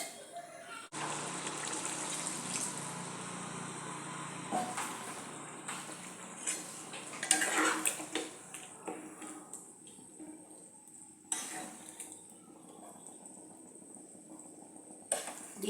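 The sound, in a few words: chana masala simmering and boiling in a pot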